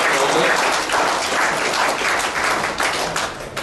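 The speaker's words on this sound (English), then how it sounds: "So, give a big clap to this person." An audience claps continuously in a dense, even wash of applause that swells slightly and keeps going throughout.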